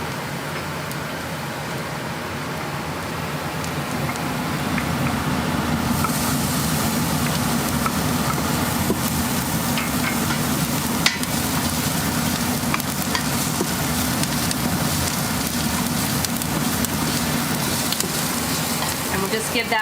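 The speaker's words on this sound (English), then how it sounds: "we're going to throw in our garlic and our ginger" Garlic and ginger sizzle and fry steadily in a hot Instant Pot, a loud continuous crackling hiss with occasional stirring scrapes, no voices.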